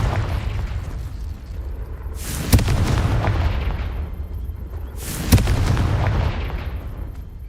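Two booming spell blasts from the Confringo curse in Hogwarts Legacy, each a sudden loud explosion with a long rumbling decay, a few seconds apart over a steady game background.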